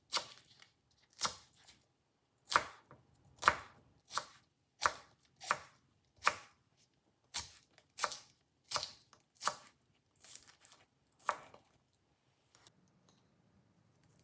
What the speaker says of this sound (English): Slice the spring onions at an angle.